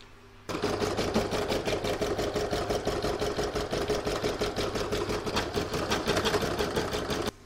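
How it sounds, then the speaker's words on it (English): A home embroidery sewing machine stitches placement lines for an in-the-hoop crazy patch bookmark, a fast steady rattling hum of needle strokes that starts abruptly and runs on continuously at close range. "I'm going to pop it back in my machine and stitch that down"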